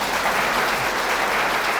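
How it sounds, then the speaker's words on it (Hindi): Applause from a seminar audience, a steady dense clapping that fills the whole moment without voices. "ताली बजा दीजिए।"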